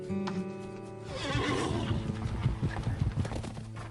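Horses neighing and whinnying loudly amid clip-clopping hooves, the calls rising over a rumbling, busy backdrop before hoofbeats pound in a steady, close rhythm.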